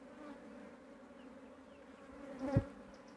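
A bee swarm hums steadily while it is captured from a mango tree branch. The buzzing is low and even, with one louder close buzz as a bee passes near the end.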